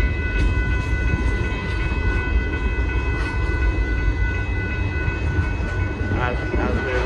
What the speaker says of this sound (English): As we're watching this powerful freight train going through.